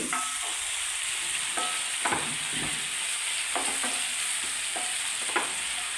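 Green chillies fry in hot oil for a Kerala brinjal stir-fry, a steady close sizzle with scraping stirs and light taps of a spoon against the pan.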